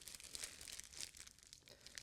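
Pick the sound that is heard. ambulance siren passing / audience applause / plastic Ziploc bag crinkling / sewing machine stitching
plastic Ziploc bag crinkling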